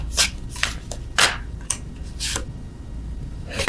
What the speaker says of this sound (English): let's get one love oracle